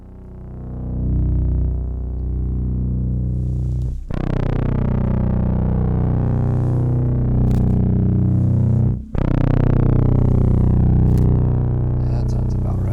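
An electric guitar played through a VVCO Afterlife pedal in vintage distortion mode rings out thick, sustained chords at low volume, with two brief breaks where the strings are muted before the next chord.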